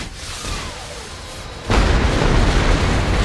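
Gunfire in the Saints Row The Third Remastered video game: a dull roar of game noise, then a sudden loud burst of heavy rumbling fire that holds steady to the end, with no talk.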